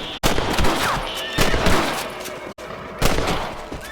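Gunfire while hunting rabbits in the Red Dead Redemption video game: several sharp shots spaced a second or so apart, loud and close, each followed by a short decaying tail.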